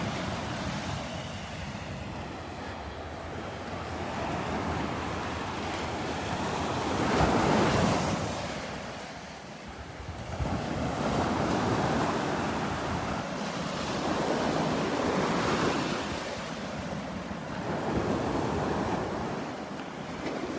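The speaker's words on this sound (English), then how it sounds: "Water's about the same as yesterday as far as the surf." Continuous ocean surf rolls onto the beach at Delnor-Wiggins, with steady wind buffeting the microphone; the waves swell and fade in broad, overlapping surges and no one speaks.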